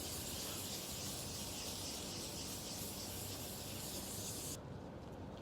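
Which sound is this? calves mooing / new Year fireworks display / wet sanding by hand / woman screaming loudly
wet sanding by hand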